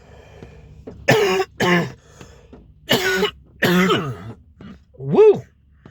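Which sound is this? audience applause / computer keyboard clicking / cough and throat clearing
cough and throat clearing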